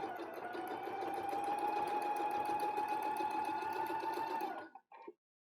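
A sewing machine stitches fabric in one continuous close, steady whirring run lasting several seconds, then slows and stops, followed by a couple of short mechanical clicks.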